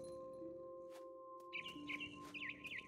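Bird chirps in the video game What Remains of Edith Finch, a series of short, warbling tweets in the second half over a steady ambient game drone, fairly close and clear.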